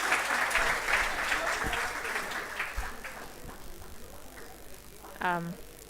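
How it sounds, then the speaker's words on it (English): An audience at a quality week closing ceremony applauds, a moderate wash of clapping that fades over several seconds before a voice begins speaking at the end. "Let us meet Miss Nomoko Suzuki with a round of applause, please."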